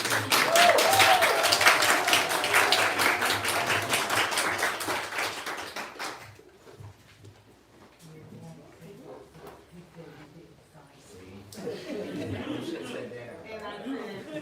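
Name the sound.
audience applause at a book event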